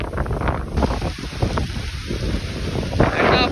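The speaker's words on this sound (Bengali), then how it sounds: "বাতাস শুরু হয়েছে, দুর্দান্ত বাতাস।" A strong outdoor storm with heavy rain and a loud, gusting wind that buffets the microphone in a continuous roar, with no talk over it.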